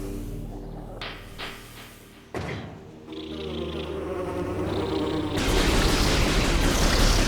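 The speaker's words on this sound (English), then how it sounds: "We get attacked by bugs." Swarming bugs attacking in the video game Metroid Prime Remastered, a buzzing insect drone with sharp impact hits, building into a loud dense wash of noise toward the end.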